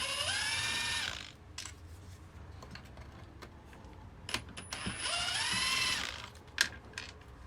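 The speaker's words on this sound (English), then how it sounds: "we'll go ahead and remove each 8 bolts on here" A ratchet loosens bolts on the swirl flap intake of a BMW E90 320d with the M47 diesel, giving two bursts of rapid, close clicking separated by quieter clinks and handling noises of metal parts.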